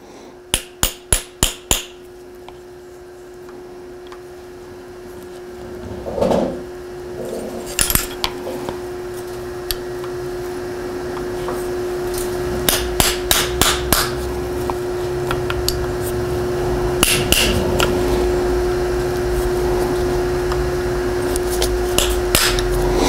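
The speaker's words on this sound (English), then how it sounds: "you can do it with something simple like a punch and a hammer" Sharp metallic hammer taps on a punch while installing a suspension fork on an electric bike, coming in quick bursts of several strikes separated by pauses, with faint clinks and a steady background hum.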